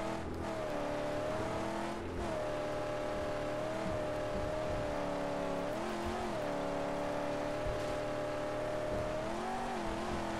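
A car in the post-apocalyptic driving game Mad Max, its engine droning steadily at fairly constant pitch with small dips and rises, heard alone and quite faint.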